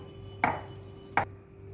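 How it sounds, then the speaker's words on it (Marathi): Two distinct knife strokes land on a cutting board as a green chilli is slit lengthwise, well spaced and close by over a steady low hum. "आता आपण उभी मिरची चिरून घेऊया"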